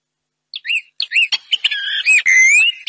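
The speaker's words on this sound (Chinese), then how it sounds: "黄莺在唱歌呢" An oriole sings a short run of clear, whistled chirps and trills, loud and close, starting after a half-second of silence, with no other sound.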